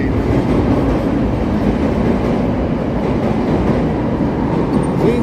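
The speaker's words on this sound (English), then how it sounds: "Here's the green line pulling into the Washington Wabash station on the loop here." Chicago L Green Line train pulling into Washington/Wabash station on the Loop, a loud, steady rumble of rail wheels and cars with no break in the noise.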